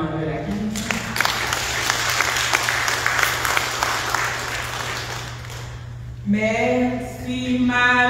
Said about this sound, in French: Applaudissons Notre-Dame de la Caridad.